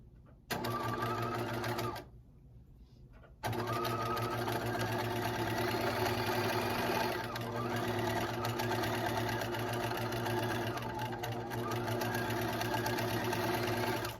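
A sewing machine runs in long steady bursts, backstitching a fleece pullover seam, its motor whirring with a rapid needle rattle and one brief pause near the start.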